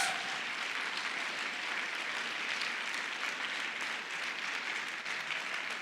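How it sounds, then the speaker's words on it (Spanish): A church congregation at a Sunday service applauds in a broad, even wash of clapping that sounds distant and fairly quiet, continuing steadily without speech over it. "Dale un aplauso al Rey de Reyes."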